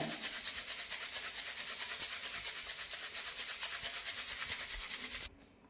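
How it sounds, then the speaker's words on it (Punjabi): Instant coffee and sugar are beaten by hand in a cup to make frothy coffee without a machine, giving a steady, close, rapid scraping and rubbing that continues without pause and stops abruptly near the end. "ਲਗਾਤਾਰ ਆਪਾਂ ਇਦਾਂ ਹਿਲਾਉਣਾ ਹੈ ਜਿੰਨਾ ਚਿਰ ਚੀਨੀ ਜਿਹੜੀ ਅੱਛੀ ਤਰ੍ਹਾਂ ਜਿਹੜੀ ਖੰਡ ਜਿਹੜੀ ਹੈ ਇਹਦੇ ਵਿੱਚ ਮਿਕਸ ਨਹੀਂ ਹੋ ਜਾਂਦੀ"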